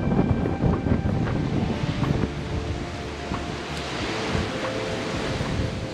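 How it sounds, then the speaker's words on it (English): Gusty wind at Albany Bulb in the San Francisco Bay Area buffets the microphone with a steady, roaring rumble that swells and eases, continuous throughout with no voices. "Wow, it's windy."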